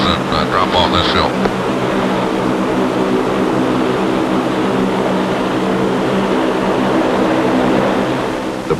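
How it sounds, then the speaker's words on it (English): Aircraft engines, likely propellers, run steadily at an Antarctic forward fuel pit on a South Pole flight, a loud continuous drone with low harmonic hum filling the whole stretch, with a brief voice near the start. "Engines must be kept running."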